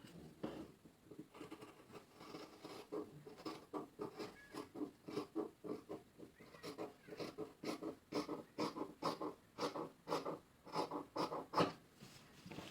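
Scissors cut fabric for a homemade halter neck top: a long run of soft, steady snips, close and faint, repeating in an even rhythm with no talking.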